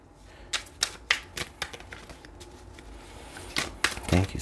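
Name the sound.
shuffling tarot cards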